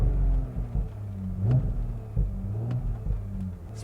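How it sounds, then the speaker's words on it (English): An Audi S4 B9 engine revs twice in quick blips, its deep rumble rising and falling over a steady idle, close by with no talking. "give Steph a few revs of the engine"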